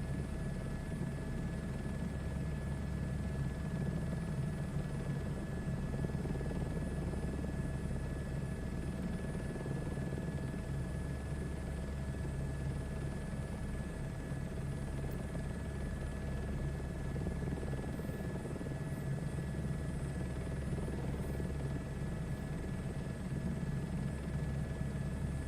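Helicopter in flight on a round-the-world trip, heard as a steady, loud rotor and engine drone with a continuous whine that holds unchanged throughout, with no voices.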